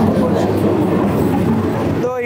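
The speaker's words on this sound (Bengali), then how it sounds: "আর এই দেখেন ট্রেন চলে আসছে" A train rumbles into a station in India, a loud, steady low roar with rolling rail noise, heard close by with a voice talking over it.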